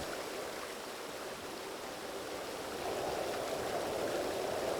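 A waterfall in the video game Satinavs Ketten roars as a steady, even rush of falling water that swells slightly louder toward the end, with no voices.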